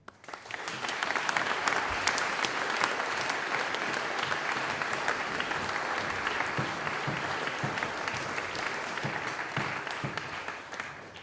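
A school audience at an athletics awards and colours ceremony gives coaches, teachers and staff a sustained round of applause, dense clapping that swells quickly, holds steady for about ten seconds, then fades.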